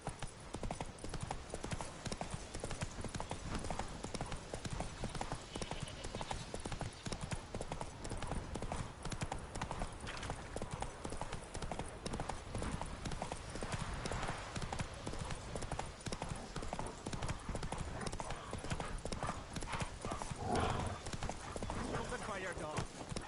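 Hooves clip-clop in a fast, steady galloping rhythm as a horse runs in The Witcher 3 on PS5, continuous and dense under game ambience and occasional spoken dialogue, with a brief whinny near the end.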